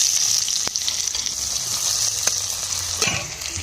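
Onions sizzling in hot oil in a pan after dried fish was fried, a steady close crackling hiss with a few clinks of stirring.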